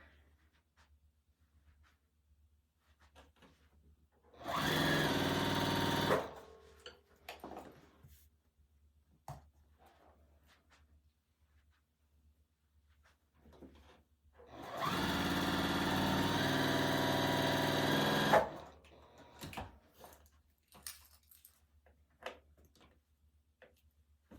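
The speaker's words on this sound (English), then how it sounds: "I'll sew these two strips together." A sewing machine stitches strips of quilt fabric together in two loud, steady bursts of rapid mechanical whirring, roughly two and four seconds long, separated by quiet pauses with light handling clicks and no talking.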